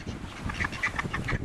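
Several ducks quacking close by in a short, lively burst of overlapping nasal calls, repeated rapidly with no talking.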